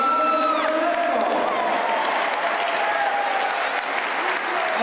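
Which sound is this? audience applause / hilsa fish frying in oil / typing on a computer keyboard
audience applause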